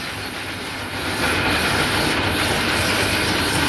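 A bamboo satay skewer polishing machine runs with a dense, loud rattling and rumbling churn, a steady mechanical clatter that swells slightly after the first second.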